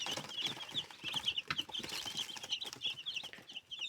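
Many two-day-old chicks cheep constantly in high, rapid peeps, a busy overlapping chorus with soft rustling underneath.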